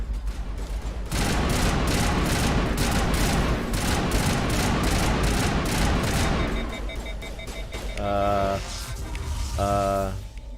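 Rapid video game gunfire with a sniper rifle, a dense run of sharp, loud shots that fades into softer game effects and tonal beeps, with a voice talking over parts of it.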